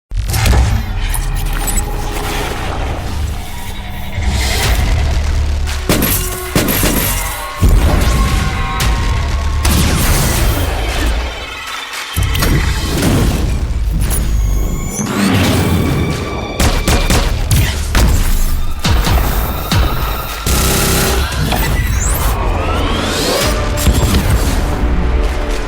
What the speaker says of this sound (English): do you mean like futuristic weapons pack 1 and 2?